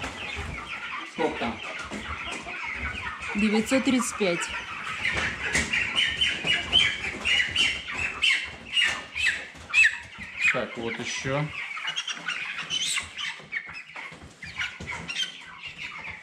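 Cobb 500 broiler chickens squawk and cluck repeatedly while being weighed on a farm, loud and close, with people talking over the birds throughout.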